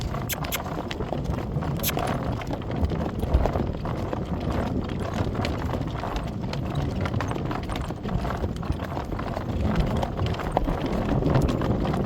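Horse hooves canter on a cool Sunday morning ride, a continuous close rhythmic drumming of hoofbeats with tack rattle and scraping throughout, and no voices in the clip.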